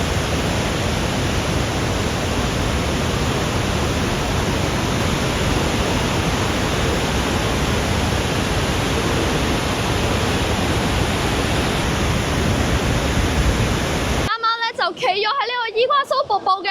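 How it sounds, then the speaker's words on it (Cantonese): Iguazu Falls thunders as a vast, wide waterfall, heard from a crowded viewing platform as a loud, unbroken roar that drops away near the end, where a voice briefly speaks. "咁大家見唔見到後邊係超級大嘅一個瀑布啦？"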